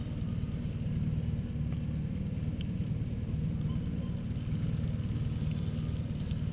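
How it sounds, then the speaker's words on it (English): A boat engine idles at low speed while pulling out of its slip before a fishing trip, a steady close low rumble with a faint rhythmic chug and water wash, running unbroken throughout. "Just idling out of the slip."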